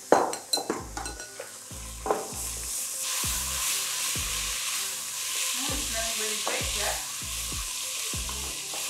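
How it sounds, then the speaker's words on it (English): Soaked lentils stirred in a pot with a wooden spoon, a steady sizzle under repeated rhythmic knocks and scrapes, starting with a few sharper clatters. "Give them a good stir."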